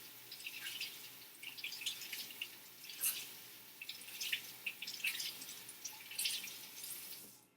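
Tap water runs and splashes over a makeup sponge held under a bathroom faucet, a steady close hiss with uneven splattering, no voices.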